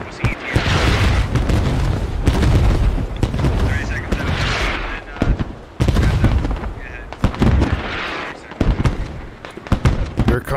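Booming artillery fire in the SquadOps war game, a string of heavy blasts and crackling impacts repeating across the stretch, loud and close, with voices talking over it.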